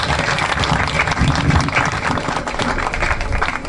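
Sustained audience applause fills a room at an Apple Valley Inn steak fry, a dense, steady wash of many hands clapping at close range, loud and unbroken throughout.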